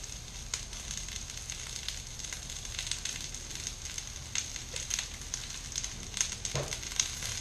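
Onions sizzling in vegetable oil on a flat griddle, a faint, steady crackling hiss with small scattered pops and light scraping, heard up close and without speech.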